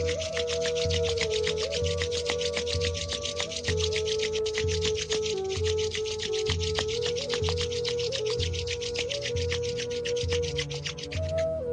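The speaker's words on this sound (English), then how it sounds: "Rub your palm." Palms rubbed briskly together in a yoga session, a dense steady rasping friction running continuously and close, with a soft sustained tone and gentle low hum beneath it, no talking.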